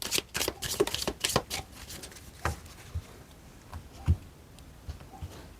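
Tarot cards shuffled and drawn at a table, a quick run of crisp riffling flutters at first, then a few isolated soft taps and slaps as cards are placed, close and fairly quiet, with no talking.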